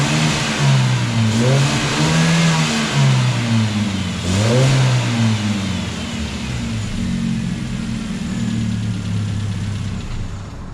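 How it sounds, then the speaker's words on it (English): A Hyundai Genesis Coupe 2.0t turbo four-cylinder on its factory intake, revved several times from idle, each rev rising and falling in pitch, loud and close with no talking, settling back to a steady idle. "We'll fire this up, give it a couple revs, let you guys listen to it"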